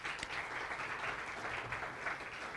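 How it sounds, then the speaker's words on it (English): Steady applause from a luncheon audience honoring two county commissioners at a chamber of commerce event, a dense even wash of clapping throughout with no voices over it. "Let's give them a round of applause"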